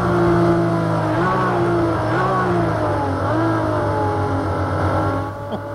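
A Ferrari race car in Project Cars 2 accelerates hard out of a corner, its loud engine climbing steadily in pitch through several gear changes.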